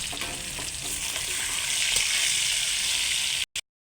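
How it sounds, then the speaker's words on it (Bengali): Chicken pieces fry in hot oil in a wok until browned for a chicken kosha curry, giving a steady, close, dense sizzle that runs unbroken for several seconds before cutting off abruptly. "এই দেখুন চিকেনগুলো আমার ভালো করে লাল লাল করে ভাজা হয়ে গেছে"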